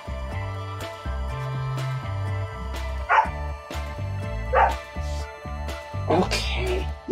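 A puppy barks and yips a few times while being looked over by a breeder, short sharp calls rising over steady low background hum and household noise.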